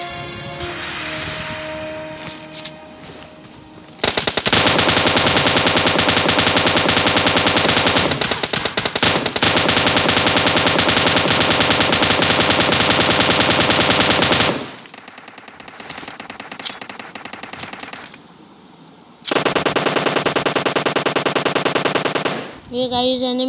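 Automatic gunfire in a shooting video game rattles in long, loud continuous bursts, broken by short pauses and quieter stretches between volleys.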